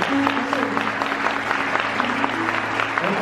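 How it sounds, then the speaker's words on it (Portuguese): A church congregation applauds steadily throughout, a dense wash of clapping at moderate distance with a faint low hum and some voices mixed in beneath. "Se vocês quiserem aplaudir por vocês"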